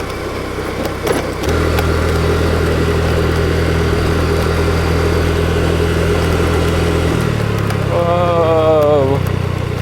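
A motorcycle engine drones steadily on a road trip ride in Pangasinan toward Bolinao Falls, a constant close hum with a shift in pitch near the end, and no talk over it.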